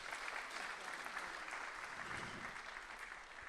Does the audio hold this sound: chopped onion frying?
no